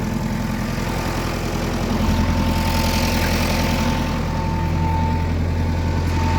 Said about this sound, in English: PTO going lovely there.